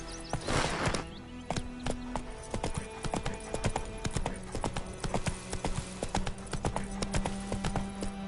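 Roach, a horse in The Witcher 3, clip-clops along at a steady walking pace, hoofbeats close and distinct in a regular rhythm, with a short low vocal sound near the start.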